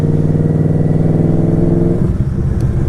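A Yamaha Royal Star motorcycle, its smaller-displacement multi-cylinder engine idling close by with a smooth, even low hum that blips up in a short rev near the end, with no talking.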